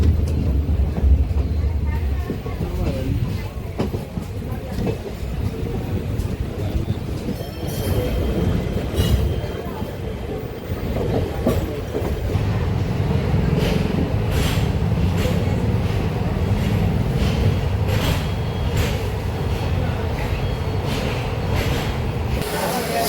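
Madurai to Rameswaram passenger train arriving at Rameswaram station, a steady loud rumble of wheels and carriages with station bustle and people talking throughout.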